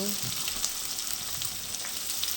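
Onions and green chillies fry together in a pan for a fish curry, making an even, close sizzle with faint stirring ticks and no voices.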